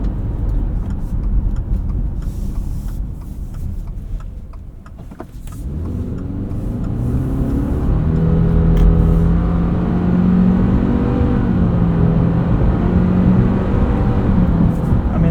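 A 2025 Subaru Forester Sport accelerates hard from a standstill to 60 mph, its engine droning and rising steadily in pitch under cabin road rumble, heard from inside the car.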